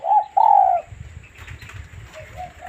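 Mae Mali, a pet dove, gives two loud, close, rounded coos back to back, then quieter low fluttery rumbles and a faint trailing coo.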